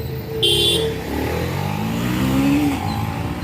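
A vehicle from Coimbatore passes on a city street with a close engine drone that rises and swells as it goes by, mixed with other traffic noise and a brief high tone near the start.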